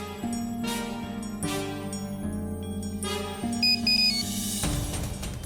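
A phone ringtone plays during a Telugu TV serial scene, a loud repeating melodic ring pattern close by with no talk over it.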